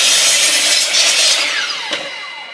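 A power saw cuts wooden boards for picnic table seats, giving a loud, close, raspy whine that tapers off as the blade winds down, with one brief bite near the end.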